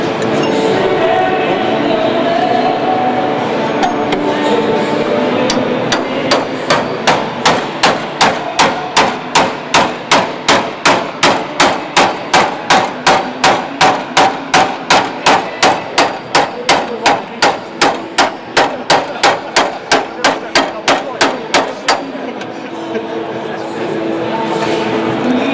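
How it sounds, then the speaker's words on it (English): Rapid, evenly spaced metal hammer blows ring out against a Triumph TR7 car body under restoration at a show, starting after a few seconds and continuing for about fifteen seconds before stopping, with people talking and crowd noise throughout. "I need my hammer now."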